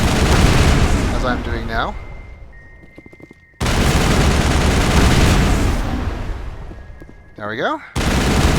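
Rapid bursts of automatic gunfire from the shooter game Mass Effect as shields are shot, coming in two long volleys separated by a short pause, with someone speaking briefly over the shots.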